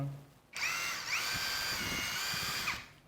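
A ONEVAN cordless impact driver in its highest-power tightening mode whirs at high speed for a couple of seconds, its pitch dipping briefly as it catches, close and loud, then stops.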